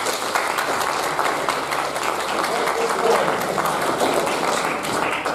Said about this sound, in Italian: a cui vorrei dedicare subito un grande applauso